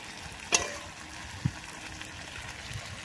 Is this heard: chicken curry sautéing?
yes